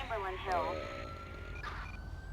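A police car siren whoops and warbles nearby at moderate volume, then settles into a steadier held tone, with faint voices and street noise underneath.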